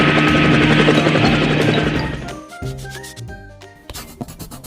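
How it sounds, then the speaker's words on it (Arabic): A helicopter's rotor thrums loudly and steadily for about two seconds, then fades under other sounds. "هليكوبتر مروحية"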